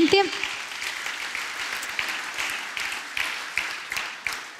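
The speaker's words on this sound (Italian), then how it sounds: "Accogliamolo con un applauso, grazie." An audience at a CEO business summit applauds to welcome a speaker onto the stage, a steady wash of clapping that runs throughout with a few louder swells, after a short spoken introduction at the very start.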